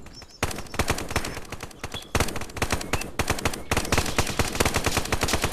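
Dense automatic gunfire in the Contractors VR shooter, with sustained close bursts of rapid shots broken by short pauses, loud and with no talking.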